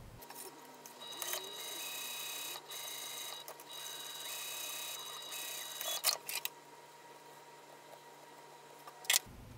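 A sewing machine bastes fabric in bursts of rapid whirring stitching, starting and stopping several times, close and fairly quiet.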